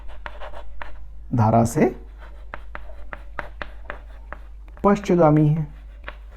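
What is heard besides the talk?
writing on a board or paper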